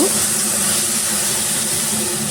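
Lychees stirred and lightly fried in a pan with boiled jackfruit seeds, giving a steady, loud broadband sizzle and steamy hiss that runs unbroken throughout.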